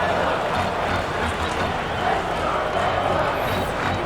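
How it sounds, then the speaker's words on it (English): Stadium crowd in MLB 2K7 during a Detroit Tigers versus Boston Red Sox baseball game, a steady broad murmur and roar of cheering that swells a little without any clear break. "you'll hear this crowd picking up their team"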